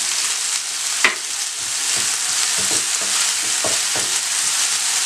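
Tomatoes and green chilies fry in a pan with a steady close sizzle, broken by a few soft stirring knocks, and no one speaks.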